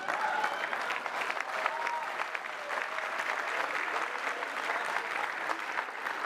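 A crowd claps steadily throughout a motivational talk, dense, even applause with a few voices and cheers mixed in, sustained at a moderate distance without pause.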